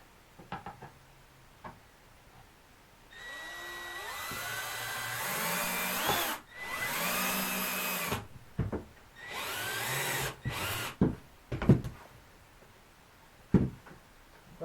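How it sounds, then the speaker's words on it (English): A power drill bores into solid wood while a small tractor trailer is being built, in three loud whining bursts with pitch shifts as the bit bites, separated by pauses and light handling knocks. "There's the drill."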